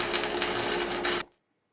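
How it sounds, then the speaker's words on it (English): Small welder running a bead on a steel gong target rack, a steady crackling buzz lasting just over a second before it cuts off abruptly into silence. "This is obviously just welding,"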